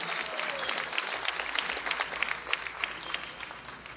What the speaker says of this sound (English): So give him another nice round of applause